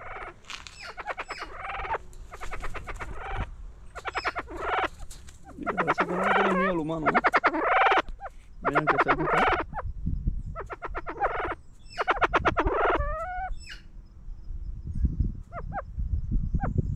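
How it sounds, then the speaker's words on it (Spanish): Chaco chachalaca (charata) in a cage on a hillside trail, giving loud, rhythmic repeated raucous calls in bursts across the whole stretch, close by. "Y aquí tienen a la charata."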